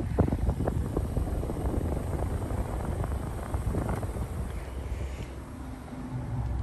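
Air source heat pump fan spinning at full speed outdoors, a close, steady whooshing rumble with wind buffeting the microphone and no talk.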